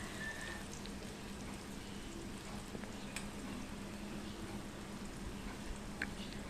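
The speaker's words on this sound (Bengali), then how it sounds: "মিডিয়াম ফ্লেমে এটাকে আমি 3 থেকে 4 মিনিট একটু ভাজা ভাজা হতে দেব।" Mushrooms frying under a lid in a covered pan over a medium flame, a soft, steady sizzle and crackle with faint scattered pops, quiet and continuous throughout.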